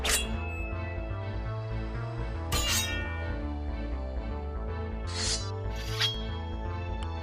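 Bright metallic clinks ring out in sparse strikes as swords clash between Peter Pan and Captain Hook, heard over a continuous bed of background music.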